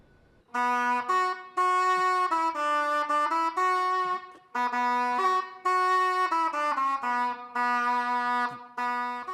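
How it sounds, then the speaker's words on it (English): An alto shawm, a reed wind instrument, plays a bright, buzzy melody of sustained notes and quick runs, loud and close, with short breaks between phrases. "That's the sound of an alto shawm."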